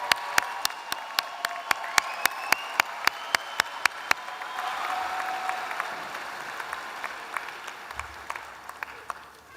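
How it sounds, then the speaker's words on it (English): Applause from graduates, guests and family at a 2024 graduate business school commencement, led by sharp regular claps near the microphone for about four seconds before the room settles into a softer, scattered crowd clapping. "Let's give all our graduates one more round of applause."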